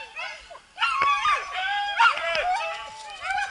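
A dog barks and yips excitedly during a dog training session, with several sharp, close barks in a rapid burst and brief whining in between.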